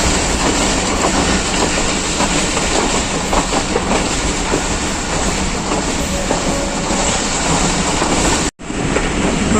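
The Kohat Express pulls into Tarnol station in Pakistan, a loud continuous rumble and clatter of train wagons on the rails heard up close, steady throughout with a brief cut near the end.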